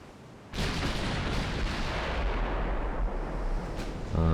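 Naval gunfire during a night battle in a naval strategy video game, heard as a loud sudden blast that rolls into a long sustained rumble, with another boom starting at the end.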